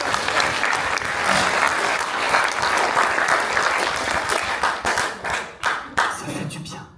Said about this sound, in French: vous êtes en train de vous applaudir entre vous